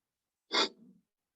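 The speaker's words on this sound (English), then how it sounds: "I think I'm going to sneeze." A single sharp sneeze, close and clear, with a short breathy trailing exhale, set against silence.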